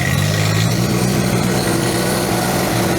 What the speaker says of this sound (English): That's me throttling it up.